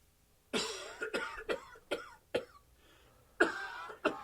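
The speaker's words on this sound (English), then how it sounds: "You can't even talk without coughing." A man coughing nearby, a rapid burst of five harsh coughs followed by a short pause and two more, loud against a quiet room.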